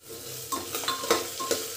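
Tomatoes and kasuri methi frying in a pan, a soft sizzle under several quick scraping stirs and light metallic clinks of a spoon against the pan, close.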